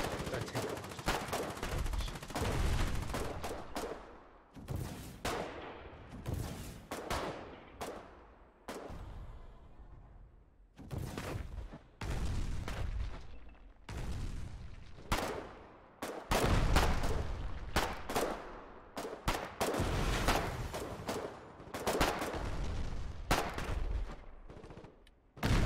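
Bursts of machine gun and rifle fire in the war game Foxhole, a frontline infantry battle with dense, loud overlapping volleys and brief pauses running throughout, with occasional faint voices underneath.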